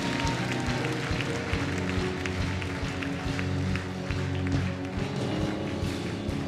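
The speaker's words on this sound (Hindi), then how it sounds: "So प्रभु को स्तुति करें, तालियां बजाएं यीशु मसीह के नाम में।" A church congregation clapping in praise of Jesus, a continuous dense patter of many hands over a droning hum and room noise, with no clear talk on top.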